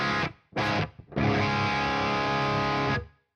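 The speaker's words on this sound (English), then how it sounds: "No, that's my reverb. That's sounding rather large." A heavily distorted guitar played through an amp sim with a large slapback reverb: two short chopped stabs, then a long sustained chord ringing loud before cutting off, with a faint reverb tail.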